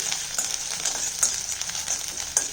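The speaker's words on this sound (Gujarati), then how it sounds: "એ સતળાઈ જાય પછી એમાં સાવ નાની એવી ઝીણી કટ કરેલી ડુંગળી લઈ લીધી છે, એ એડ કરી દઈશું." Finely chopped onion sizzles and fries steadily in a hot pan for Rajasthani dal bati, a bright continuous crackle broken by occasional sharper spatters, with no voices.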